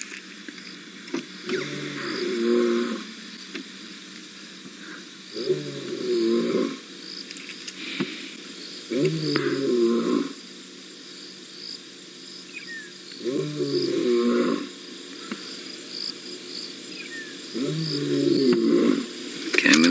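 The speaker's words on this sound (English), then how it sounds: "that's the kind of feeling you get when a lion roars that closely to you" A lion roars close by on a safari drive, a series of deep grunting roar bouts repeating every few seconds against a background of insects and birds.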